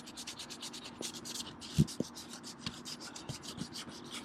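Abrasive rubbing roughens the PVC surface of an inflatable West Marine dinghy raft before patching, heard as faint, quiet scratchy strokes in a loose rhythm.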